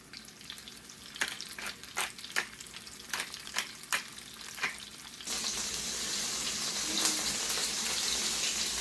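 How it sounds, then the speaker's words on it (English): Chicken pieces searing in a hot pan for arroz con pollo: a few sharp taps and crackles, then a loud, steady broadband sizzle that swells and holds close up, with no talking. "just going to go ahead and sear these on both sides for a couple of minutes just to give it a nice color"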